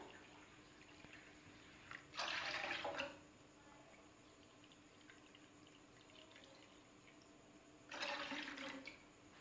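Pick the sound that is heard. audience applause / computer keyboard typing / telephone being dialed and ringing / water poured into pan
water poured into pan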